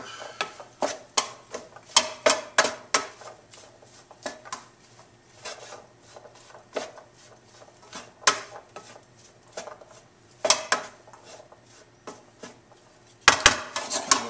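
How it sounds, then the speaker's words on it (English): Beans being stirred in a pan give repeated scraping and clinking strokes of a utensil against the cookware, close and irregular, with quiet gaps between bursts and no speech. "Nice little stir."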